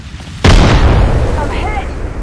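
A grenade blast in the Apex Legends video game hits hard and close, a sudden loud boom that rolls into a long rumbling decay, with game chatter and effects faintly behind it.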